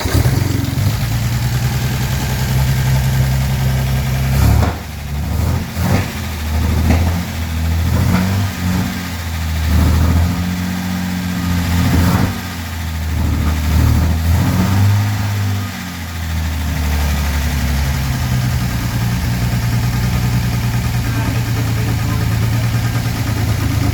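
An Armstrong Siddeley Special engine, slightly tappety and running without coolant, idles up close with a deep, steady throb, swelling through several throttle blips and revs before settling back to a rough idle.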